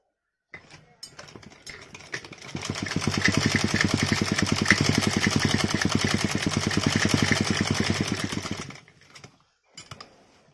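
A sewing machine runs a finishing seam along the edge of sari fabric in a steady rapid whirring run of several seconds, close and fairly loud, with short bursts of stitching before and after.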